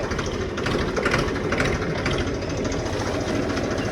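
Tractor engine running at a steady, loud, knocking chug close by, with a continuous rough mechanical rattle and no speech over it.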